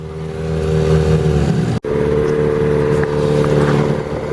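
A sailboat's engine drones steadily while motoring out inside the breakwater on the way to Catalina Island, a loud close mid-pitched hum with a brief dropout partway through, no voices.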